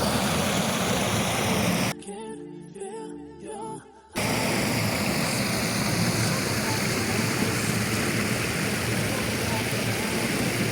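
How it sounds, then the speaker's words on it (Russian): Steady broadband rushing of a waterfall, continuous and fairly loud, briefly dropping out for about two seconds before resuming. "Вот такой Ниагарский у нас водопадик."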